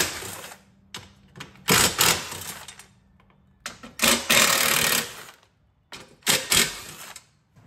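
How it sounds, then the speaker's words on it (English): A 10 mm wrench loosening the floorboard bolts on a KYMCO Mongoose 90 go-kart, giving bursts of rapid metallic ratcheting clicks in three or four loud clusters separated by short quiet pauses, close to the microphone. "Now using the same 10 millimeter, we're taking these four off the floorboard."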